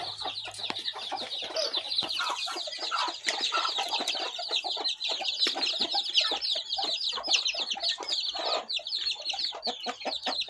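A dense chorus of chickens clucking and chattering continuously, many birds close together, busy and steady throughout.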